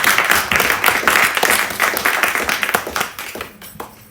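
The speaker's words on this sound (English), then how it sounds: "He deserves another round of applause." A round of applause at a US-Africa trade development forum, dense hand clapping from an audience that stays loud for about three seconds and then thins out and fades.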